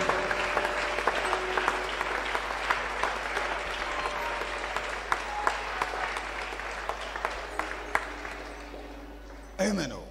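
A church congregation claps during a worship service, with a steady wave of applause and sharp individual claps running throughout, while a voice speaks over it.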